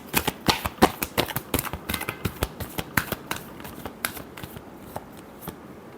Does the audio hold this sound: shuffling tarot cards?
yes